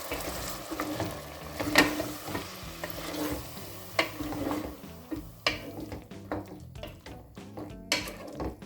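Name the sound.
stirring herb paste for green chicken pulao in a pan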